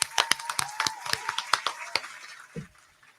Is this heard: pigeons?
no